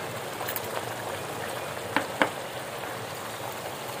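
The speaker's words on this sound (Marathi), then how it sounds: "यात मसाला परतून घ्यायचा" Malvani masala frying in hot oil for Malvani-style chicken sukka, a steady soft sizzle with two brief sharp spatters or stirring clinks midway, no voices.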